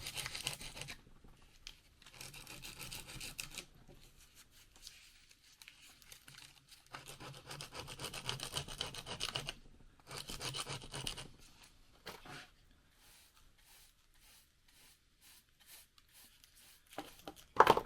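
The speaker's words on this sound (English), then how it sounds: "Scraping them like this also tells you where the high spots are." A tool scrapes across the surface of a cast concrete pot in bursts of rough, gritty rasping, close and moderately loud, separated by short quiet pauses.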